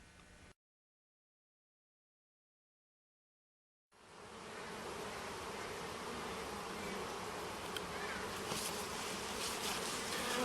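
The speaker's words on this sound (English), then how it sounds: "We have some nice fresh honey on this frame, and lots of bees." A dense, steady drone of many honey bees buzzing close by at a bee farm, starting after a short silence and continuing loud and unbroken.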